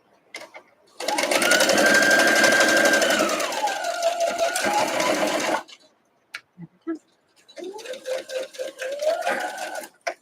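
A sewing machine stitching a quilt block runs in a long continuous burst, pauses briefly, then resumes in shorter stop-and-start runs, close and clear.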